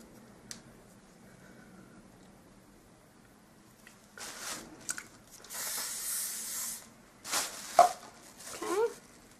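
Short bursts of hairspray misted onto a fringe while styling a vintage Lucille Ball hairdo, a long hiss followed by several quicker sprays, near and fairly loud.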